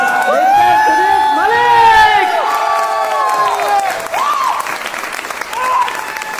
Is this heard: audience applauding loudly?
yes